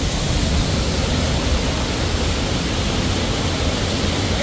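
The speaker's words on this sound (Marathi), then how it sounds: "बघा. पाणी पडतंय सगळं." Thoseghar waterfall near Satara, water pouring down in a steady, dense roar close by, continuous and broadband with no break, alone without voices.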